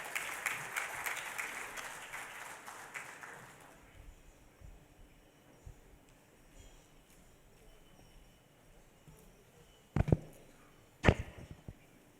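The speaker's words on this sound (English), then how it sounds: "please give a huge round of applause in welcoming this man from the Silicon Valley of India, Mr. Guru P" Conference audience at National Conference 2022 in Surat breaks into dense, loud applause that fills the first few seconds and then fades into quiet room noise, with a couple of sharp knocks near the end.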